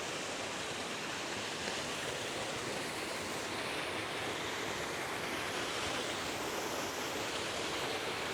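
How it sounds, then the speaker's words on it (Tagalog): A small waterfall at Gisgis Falls in the Sierra Madre, Pangil, rushes in a steady, broad roar of falling water, constant and fairly close with no voices. "Ito yung mini falls."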